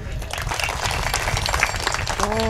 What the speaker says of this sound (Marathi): म्हणून दादासाठी टाळी वाजवा एक बार जोरात.